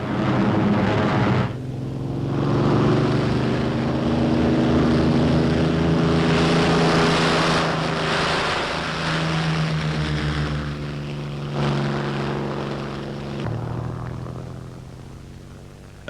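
WWII fighter aircraft propeller engines in flight, a loud continuous drone with steady harmonic hum that swells and dips slightly as the planes pass, alone without voices.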